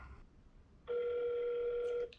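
A phone call rings out: a single steady electronic ringback tone lasting about a second, clear and close after a brief quiet moment.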